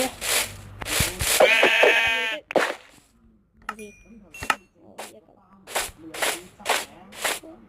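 Sheep bleat clearly in the Minecraft video game, one long wavering bleat followed by sharp clicky game sounds, with a person speaking in between.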